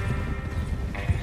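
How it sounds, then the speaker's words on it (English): Horse hooves clip-clopping in the video game Red Dead Redemption 2, a steady, close run of hoofbeats over low rumbling game ambience, with one heavier thud near the end. "Get a hold of that horse"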